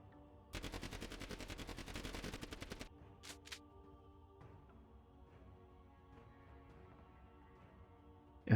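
A rapid burst of automatic machine gun fire in a VRChat game, lasting about two seconds at a steady, fast rhythm, followed by a couple of single shots over quiet background music.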